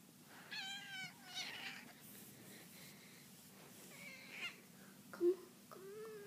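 A pet cat gives several faint meows, short rising and falling cries spread across a quiet indoor room, with one sharper, louder call near the end.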